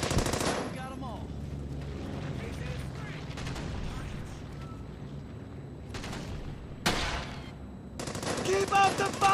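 Automatic weapons fire in Brothers in Arms: Hell's Highway, a World War II shooter, with sustained rattling bursts and sharp single shots near and far, a few louder blasts, and soldiers' voices mixed in.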